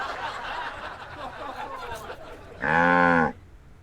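A cartoonish cow-like moo sounds in the Sam & Max Save the World adventure game, Episode 2. A short, loud, drawn-out low call follows a stretch of muffled background chatter.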